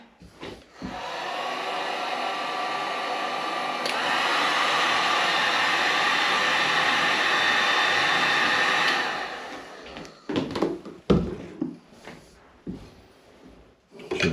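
A heat gun blowing hot air onto a RockShox Deluxe rear shock part during a service: a loud, steady whooshing roar lasting several seconds, then cutting off, followed by clunks and handling noises from the shock.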